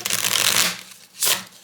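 A deck of tarot oracle cards being riffle-shuffled close up: a dense, crisp fluttering burst of card edges lasting over half a second, a brief pause, then a second shorter flurry.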